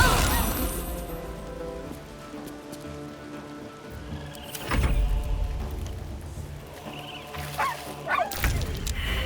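A dog barks and yelps amid spell and combat effects during a Baldur's Gate 3 battle, several short cries rising above a busy game soundscape.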